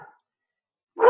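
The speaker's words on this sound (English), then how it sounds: "sorry, that's my dog now" A pet dog barks once, fairly loud and nearby, after a brief trailing sound and a moment of silence.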